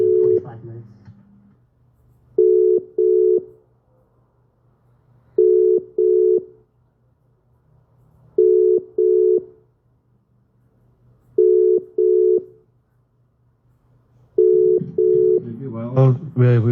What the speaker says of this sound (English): While we're waiting on the caller to answer the phone